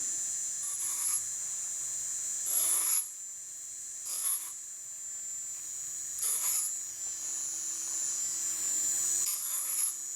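Nakanishi micro-grinder running at 20,000 RPM on 304 stainless steel pipe makes a steady thin high whine, with brief harsher grinding bursts each time the bit bites the metal; quiet overall.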